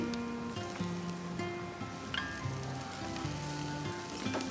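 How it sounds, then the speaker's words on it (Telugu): Broad beans (chikkudukaya) fry in a pan on a low flame, a soft steady sizzle with occasional crisp pops, heard close under faint background music. "ఫ్లేమ్ సిమ్లో పెట్టుకొని ఇలా రెండు నిమిషాలు ఫ్రై ఫ్రై చేసుకుంటే సరిపోతుందండి"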